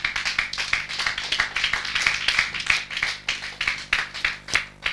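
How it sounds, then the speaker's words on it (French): A church congregation claps together in praise of Jesus, a dense ongoing round of hand claps with rising and falling bursts, fairly close and lively, with no talking over it. "Acclamons pour la gloire de Jésus."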